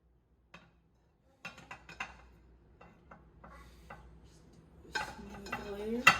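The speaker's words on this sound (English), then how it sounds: "in the casserole dish, you're going to put in the ground beef" Ground beef being spooned into a casserole dish for shepherd's pie, a series of soft scattered knocks and scrapes of utensil against dish, quiet and close, ending in a louder clatter and rub.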